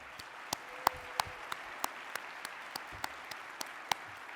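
Audience applause at a city-led conference general session in Denver, a steady fairly quiet wash of clapping from a large room with a few sharper individual claps standing out at irregular intervals.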